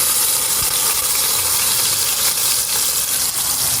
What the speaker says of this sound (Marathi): याला आपण तेलामध्ये थोडंसं भाजणार आहे तर तेलामध्ये टाकलं की पाणीने मग थोडं उडू शकतं